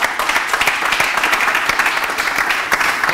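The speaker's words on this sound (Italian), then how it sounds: "un applauso a noi tifosi" Fan audience bursts into sustained applause in a studio, dense clapping steady and loud throughout with no talking over it.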